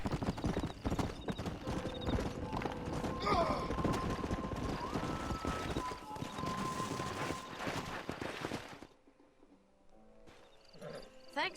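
A horse ridden by a cowboy in Red Dead Redemption clip-clops at a steady trot for several seconds, with some whinnying and game sounds layered over the hooves, before the galloping stops and the scene goes quiet.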